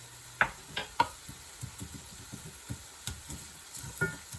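Spices frying in coconut oil in a pan for an eggplant shrimp coconut curry, a faint steady sizzle with scattered soft taps and stirring clicks throughout, no talk.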